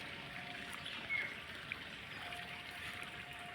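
Water flows steadily from a 300-foot borewell, a soft continuous trickling stream with faint background ambience, no one speaking over it.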